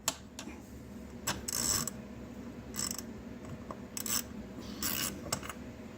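Short metallic ticks and clicks of a socket wrench working the main nozzle out of the carburetor body on a 1945 Ford 2N tractor, a few scattered bursts over low background hum, fairly close and moderate in level.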